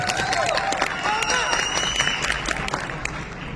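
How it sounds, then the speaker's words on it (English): A large crowd at Joy Forum in Riyadh, with Salman, Shahrukh and Aamir Khan on stage, bursts into dense, continuous applause, loud clapping mixed with cheering and high whistles throughout. "he'll do a little rendition, and the loudest claps have to come"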